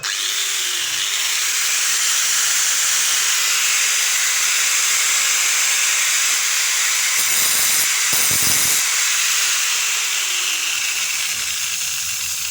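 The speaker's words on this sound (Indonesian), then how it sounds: "Kemudian kita haluskan, kita gerenda perlahan-lahan aja." A grinder runs steadily and loudly, slowly smoothing a weld on an original shock absorber, a constant high hissing whine with brief interruptions near the middle where the disc catches the metal.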